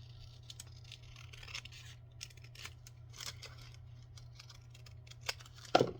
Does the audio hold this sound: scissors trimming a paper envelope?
yes